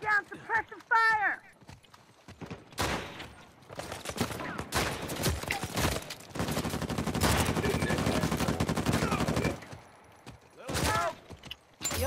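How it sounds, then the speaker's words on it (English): Command & Conquer battle sounds, with bursts of rapid gunfire, hoofbeats and horse whinnies. A voice speaks between the volleys. "Bring down suppressive fire."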